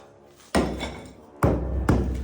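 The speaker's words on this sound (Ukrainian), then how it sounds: "Молотком б'ється, дивіться." A hammer strikes a semi-dry floor screed about three centimetres thick laid over foam insulation, giving three sharp, loud, dull thuds at uneven intervals, each with a short rumbling decay, heard close up.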